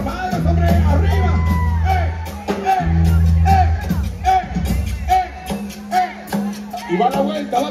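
A crowd at a DJ party shouts, whoops and cheers loudly in sustained roars, while a man on the microphone hypes them up between bursts.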